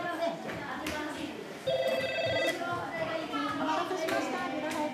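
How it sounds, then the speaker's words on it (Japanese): A telephone rings at a busy private nursery school in Yamaguchi, a steady electronic trill lasting about a second amid the chatter of young children and adult voices in the room. "電話が鳴り止みません。"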